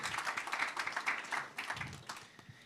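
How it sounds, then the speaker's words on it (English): Applause from an audience at a corporate social responsibility event, a moderate patter of many hands that swells and fades over a few seconds, heard at some distance in a hall. "Give her a round of applause."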